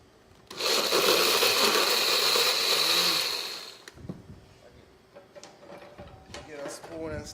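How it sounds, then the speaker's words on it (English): Kitchen blender re-blending food, a loud whirring burst lasting about three seconds that winds down, followed by quieter clattering and handling noises. "So now I'm going to re-blend that up."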